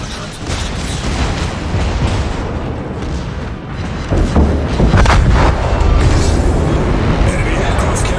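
Explosions as an enemy aircraft carrier is destroyed in a naval video game, a dense, continuous barrage of loud booms and gunfire bursts that grows heavier midway, with voices under the din.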